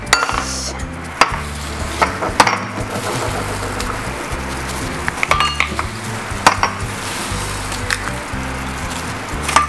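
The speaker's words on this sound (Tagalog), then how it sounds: "Then, mix lang natin ulit." Ground meat mixed with mustard, salt and eggs for Salisbury steak, heard as repeated clinks and taps of a utensil against a bowl over a low rumbling hum, irregular and close.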